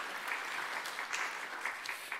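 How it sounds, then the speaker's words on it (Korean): A church congregation claps in welcome during a New Year Sunday service, a steady, moderately quiet wash of many hands with small uneven peaks, no voices over it. "박수로 환영해 주시기 바랍니다"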